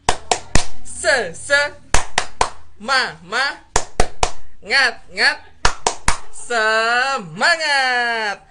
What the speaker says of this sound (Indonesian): Coba 2 kali tepuk semangat.